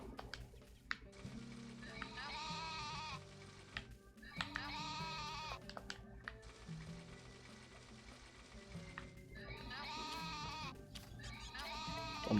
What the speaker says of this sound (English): Oh my gosh, the sheep are going crazy.